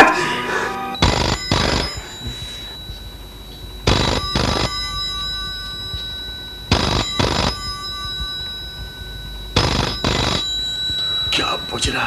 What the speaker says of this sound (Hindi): घंटी बज रही है, शायद फोन होगा डॉक्टर का।